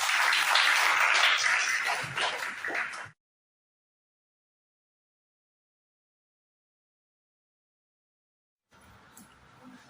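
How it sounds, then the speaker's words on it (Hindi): A classroom of students claps together for about three seconds, a dense burst of hand claps that stops abruptly into silence. "आप सभी ताली बजाओ"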